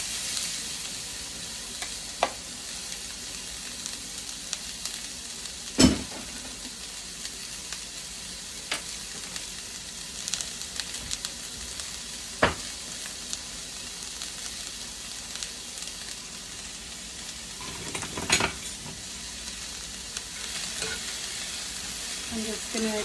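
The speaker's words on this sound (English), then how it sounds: "I'm just going to cook this down just a little bit so the onions turn translucent." Diced onion and poblano peppers frying in olive oil in a pan, giving a steady, close sizzle throughout with a few louder pops and crackles.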